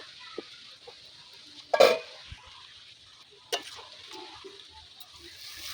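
Ingredients for chicken dopiaza being lightly fried and stirred in a pan, a faint background sizzle broken by a few louder scraping stirs and clinks of a utensil, close by.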